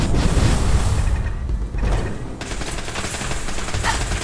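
Automated turrets firing in the video game Fallout 4 Nuka World, a dense, loud, continuous burst of rapid gunfire with mechanical clatter, briefly thinning before resuming.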